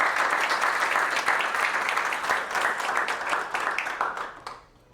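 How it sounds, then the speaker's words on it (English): Morning awards-ceremony audience giving a warm round of applause for award finalists, steady dense clapping that tapers off and fades near the end. "Let's give them a round of applause."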